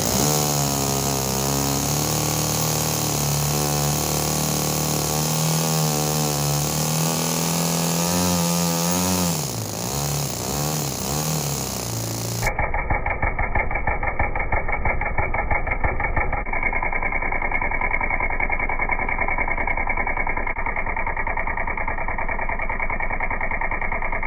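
Small RC model engine running, a high buzzing whine with shifting pitch that drops into a steady rapid idle chatter, loud and close with no one talking.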